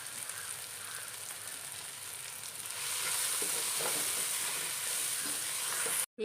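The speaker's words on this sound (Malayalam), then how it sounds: "ഇത് നന്നായിട്ടൊന്ന് വഴറ്റിയെടുക്കാം." Tomatoes sautéing with salt in a pan, a steady close sizzle and crackle that swells louder about halfway through, with faint stirring and no talk.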